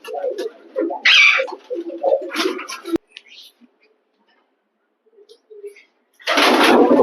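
Pigeons of a long-kept breed coo close by in short, soft bursts separated by quiet gaps, ending in a loud rush of rustling noise.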